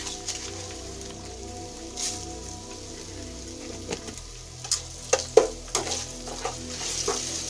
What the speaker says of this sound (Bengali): হলুদ গুঁড়ো দিয়ে আমি নেড়ে চেড়ে নিলাম, এবং একটু চিনি দিয়ে দেব সাথে।